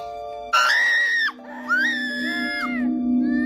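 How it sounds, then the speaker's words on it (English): A family screams in fear as a toy falls off a counter: two sharp, high screams, the first loud and abrupt, the second wavering, over a faint background tone. "The family screams in fear as the toy falls off the counter"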